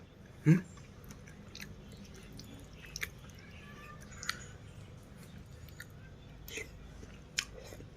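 Someone chews vegetarian mock pork up close, with soft wet chewing and occasional small crunches, quiet, intermittent, and scattered across the clip.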